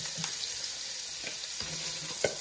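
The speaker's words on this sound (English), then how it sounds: "a little dash of oil and a knob of butter. Okay. And we're going to start with the onion first" Onion going into a pan with a dash of oil and a knob of butter, giving a soft, steady close sizzle with a few small stirring clicks.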